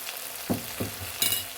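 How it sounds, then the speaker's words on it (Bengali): Ground cumin, coriander, turmeric and red chilli powder frying in a pan for chicken ghugni, a soft continuous sizzle broken by three short stirring scrapes. "সব কিছু দিয়ে এখন ভালো করে মশলাটা কষিয়ে নেব"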